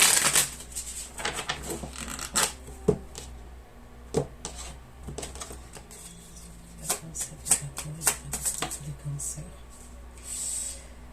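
Tarot cards are shuffled by hand, with several slipping out of the deck, producing soft rapid riffles and light flicks and taps under a steady low hum, while a person talks throughout.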